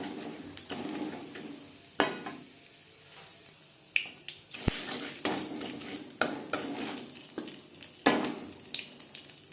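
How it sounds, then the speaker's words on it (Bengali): Panch phoron spices frying in oil in a wok after potatoes and pointed gourd were fried, with a soft continuous sizzle and repeated sharp scrapes and clinks of a stirring utensil against the pan. "আলু পটল ভেজে নেওয়া কড়াইতে আবারও তেল দিয়ে দিলাম 5 ফোড়ন"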